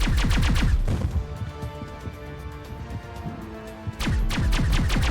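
Bursts of gunfire in the Mass Effect video game crackle in quick rapid-fire volleys at the start and end, with quieter scattered shots and ambient game sounds between them.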